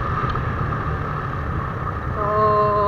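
Suzuki Thunder 125 motorcycle engine running, said to have a damaged piston, a steady close drone that is joined near the end by a rising whine as it revs.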